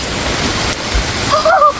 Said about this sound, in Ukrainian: Дощик тільки такий шурує.